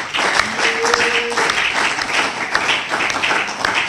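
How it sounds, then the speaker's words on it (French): A congregation at a Christian spiritual-combat ministry meeting in Brazzaville applauds those who signed: steady, dense clapping from a crowd that fills the whole stretch without a break. "Nous allons acclamer pour tous ceux qui ont signé."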